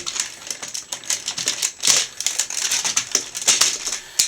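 Hard plastic toy Zord legs click and snap into place on a Power Rangers SPD Dekabike, a rapid cluster of sharp close-up clicks and rattles with no voices.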